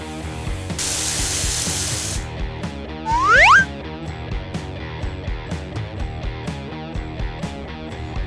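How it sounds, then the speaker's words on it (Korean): Water sprayed onto bathroom tile grout as a steady hiss lasting about a second and a half, over background music, with no talking. "바로 물을 뿌려 확인해 보겠습니다."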